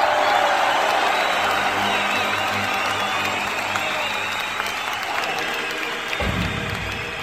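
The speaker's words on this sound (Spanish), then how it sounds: "Y ahora sale un aplauso." Studio audience applause on a Seville-set television show, steady, loud clapping with scattered cheers sustained throughout, swelling near the end.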